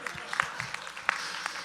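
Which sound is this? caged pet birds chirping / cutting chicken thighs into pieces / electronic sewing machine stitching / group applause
group applause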